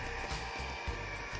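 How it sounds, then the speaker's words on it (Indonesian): An electric mixer runs at low speed kneading cookie dough, a steady close motor whir with a rhythmic low thump as the beaters turn. "Kita mixer dengan kecepatan rendah saja."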